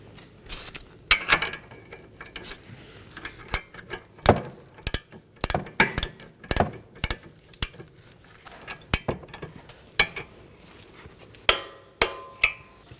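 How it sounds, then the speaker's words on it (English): Torque wrench tightening sway bar link bolts on a Nissan Maxima, heard as a string of sharp metallic ratcheting clicks and clanks at irregular intervals, close and fairly crisp over a quiet background. "go ahead and torque these down to 62 foot-pounds"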